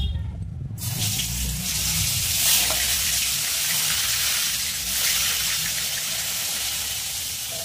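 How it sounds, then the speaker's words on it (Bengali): Pumpkin frying in oil makes a dense, continuous sizzle and hiss that starts abruptly and holds steady at a fairly loud level, close by. "এবার ভেজে নেব কুমড়োটা।"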